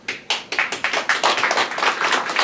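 Short burst of audience clapping at a political talk concert, loosely rhythmic claps close by that merge into a steadier patter over a couple of seconds.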